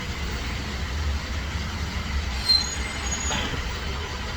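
Road traffic rumbles steadily with buses passing nearby, a low, continuous engine drone and a brief hiss like an air brake midway, with no talking.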